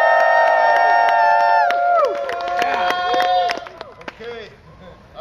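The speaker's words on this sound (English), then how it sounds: "please give him a cheer on three" A crowd at a 2008 cannabis contest cheers on cue, loud whoops and shouts swelling together and then fading into scattered voices and claps.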